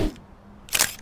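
Camera shutter clicking in a children's cartoon at a pink salt lake, a brief soft click followed by a louder bright burst of the shutter, close and alone.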